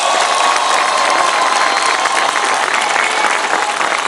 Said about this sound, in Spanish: un aplauso desde aquí hasta Palenque al presidente López Obrador